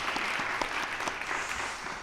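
A church congregation at a Sunday afternoon service claps together in a brief burst of steady, moderately loud applause that fills the room, with no voices over it.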